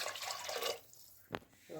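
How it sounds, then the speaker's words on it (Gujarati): Water splashes briefly into a cooking pot for rice, then a short liquid slosh follows after a pause. "પાણી ઉમેરી દઉં"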